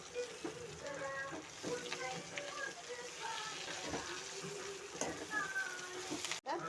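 Drumstick leaves (murungai keerai) sizzling and frying in a pan while being stirred, with a soft, steady crackle and occasional scraping, under a voice talking quietly.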